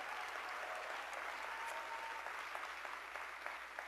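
Faint, steady applause from an audience at a Center for American Progress event, filling the whole stretch as an even wash of clapping without voices.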